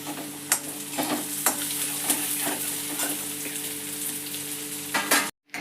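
Loud, continuous sizzling of spices and chopped coriander frying in hot oil, with occasional stirring clicks and scrapes cutting through the hiss.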